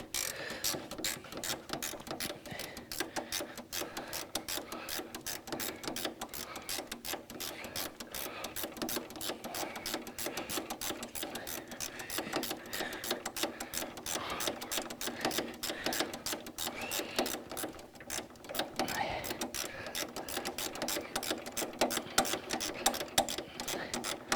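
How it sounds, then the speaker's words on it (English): A ratchet spanner undoing a car radiator bolt, with a rapid, continuous stream of fine metallic clicks from the pawl running steadily and close up for the whole stretch, no talking. "Nice little ratchet spanner here, very useful."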